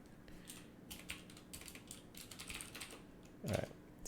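Someone types on a computer keyboard, a quiet, irregular run of light key clicks followed by a heavier thump near the end, with no talk over it.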